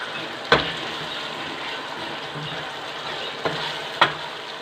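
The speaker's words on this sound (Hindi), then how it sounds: "अब हम टमाटर डाल के अच्छे से इसको भून लेंगे।" Tomatoes fry in a garlic-ginger masala for a black chickpea curry, a continuous close sizzle broken by three sharp scrapes of a spoon against the pan.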